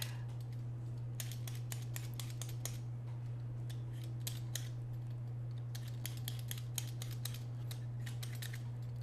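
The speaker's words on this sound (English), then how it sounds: "And you're using a Y peeler for this." A Y peeler scraping vegetables for a steak dinner, in quick bursts of crisp rasping strokes with short pauses between, close by over a steady low electrical hum in a kitchen.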